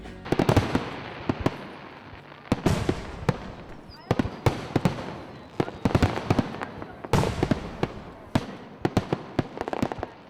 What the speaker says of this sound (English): The whole night kind of comes to a culmination with the fireworks show.